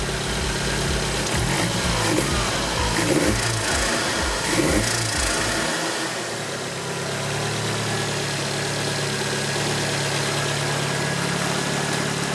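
A Toyota AE86 engine fitted with a new GT2860RS turbo runs loudly and steadily, with rough low pulsing for the first few seconds before settling into a smooth, even drone.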